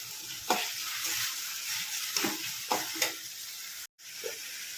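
Tomatoes sautéing in a frying pan for a village-style Tamil peanut kuzhambu give a steady hiss, broken by a few soft scraping stirs and taps of the spoon.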